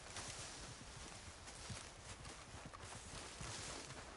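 Hooves of a horse in a video game clip-clopping steadily over ground, a faint rhythmic patter of footfalls set within a dense, noisy outdoor game soundscape.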